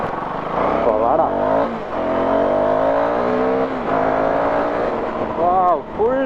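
A Husqvarna Svartpilen 401 cafe racer motorcycle pulls hard at full throttle, its engine rising through the revs in long sweeps with brief drops between gears, loud and close.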